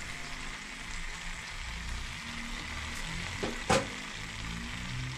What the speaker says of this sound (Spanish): aquí para la salsa estamos friendo unos tomates. Sí, ponemos también un pedazo de cebolla, un diente de ajo y aventamos los chiles